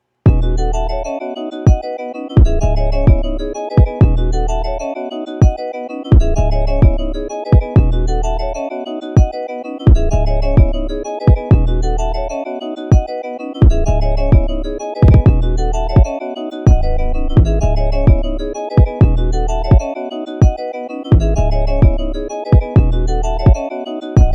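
A hip-hop beat with punchy kicks and booming 808 bass hits repeating in a steady pattern, with a bright melodic loop riding on top.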